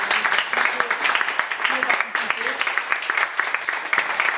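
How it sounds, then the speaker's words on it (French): Audience applause at a French comedy festival, Humour en Weppes, a steady patter of many hands clapping at moderate distance for the whole stretch, with a few voices murmuring underneath. "Si on peut l'applaudir"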